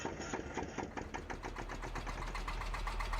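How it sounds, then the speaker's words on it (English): An old-school tractor in the Farming Simulator game cranks and catches into a rapid, rhythmic chugging, the steady pulses settling into a fairly quiet idle with no talk. "old school tractor, this sounds brilliant starting up."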